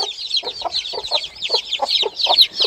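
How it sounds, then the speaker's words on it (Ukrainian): High-pitched peeping of chicks under a warming lamp in rapid repeated bursts, with soft low clucks from a brooding hen underneath, close and fairly loud. "Кричать вони, звичайно, чують маму і кричать."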